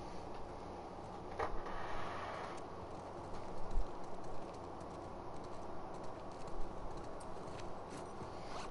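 Horse hooves clip-clop softly in The Last of Us Part II, faint and somewhat distant under an ambient outdoor bed with occasional birdlike calls.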